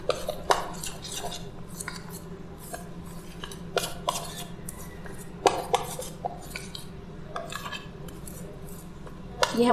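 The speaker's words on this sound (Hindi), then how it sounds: "ये हमने अच्छी तरीके से मिक्स कर लिया है।" Chopped ingredients for hare bhare dahi bare being mixed in a bowl, with light clinking of a spoon against the dish in scattered taps and scrapes, close and fairly quiet over a low steady background.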